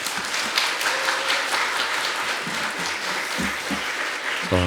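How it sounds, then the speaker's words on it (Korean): A Korean church congregation claps loudly to welcome the pastor to the pulpit, dense continuous applause filling the room with a few low thumps near the end. "나오실 때 크게 한번 박수로 환영하겠습니다"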